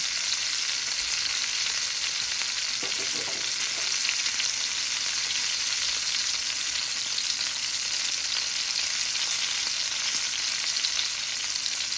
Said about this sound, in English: I'm going to fry a little more and then it's ready